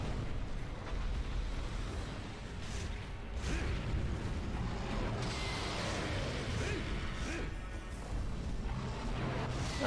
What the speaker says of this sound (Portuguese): Ah, eu tomei a explosão, né?